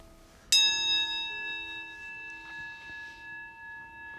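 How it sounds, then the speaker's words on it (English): A meditation bell struck once, a clear bright ring that rises suddenly and then sustains for several seconds, its tone slowly wavering and fading in a quiet room. "we will leave as we began with the bell."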